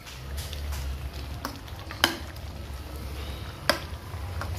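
Caldereta sizzling steadily in a hot pan, a constant frying hiss with a couple of sharp pops of splattering oil.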